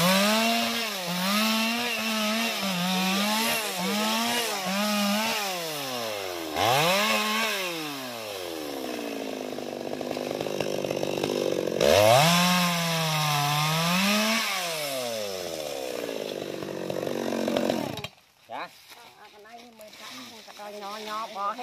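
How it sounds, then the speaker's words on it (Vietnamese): A chainsaw cuts into a jackfruit tree stump, its motor rising and falling through repeated revving passes, loud and close, before cutting off near the end; a voice speaks over parts of it. "Chú bắt đầu dọn dẹp để cưa gốc nha các bạn"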